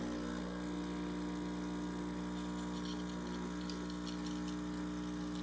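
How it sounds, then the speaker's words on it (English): De'Longhi Stilosa espresso machine brewing coffee, a steady loud pump drone with a strong low hum and a faint trickle of liquid running throughout. "turn the selector dial over to the coffee and hot water function and brew your cup"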